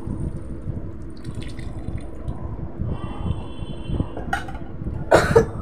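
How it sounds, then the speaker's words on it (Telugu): Tamarind juice is poured into a simmering bottle gourd curry, giving a faint trickle and splash, with a louder liquid rush near the end over low kitchen background noise. "ఇప్పుడు చింతపండు పులుసు పోయాలండి."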